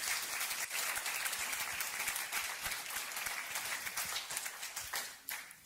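A church congregation claps in sustained, fairly soft applause, a steady patter of many hands that carries on for several seconds without talk.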